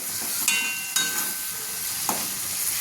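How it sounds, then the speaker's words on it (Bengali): Onions sizzle steadily in a frying pan for fish curry while a utensil stirs them, with a few sharp scrapes and clinks cutting through the continuous hiss, alone and close. "ভালো করে নাড়াচাড়া করতে হবে।"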